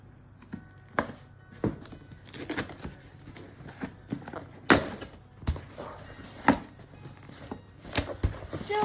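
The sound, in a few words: lid being lifted off a box of silicone kits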